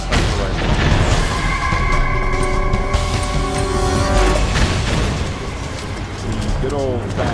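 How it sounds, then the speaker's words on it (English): Sniper rifle shots and heavy booms in Metal Gear Solid 4, loud and close amid dense game noise and sustained tonal effects, with a voice talking over the action. "Sniper rifle."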